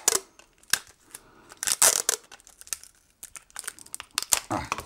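Adhesive tape rips off the roll and wrapping paper crinkles while Christmas gifts are wrapped, a close series of sharp tearing and rustling bursts in irregular rhythm with brief pauses between.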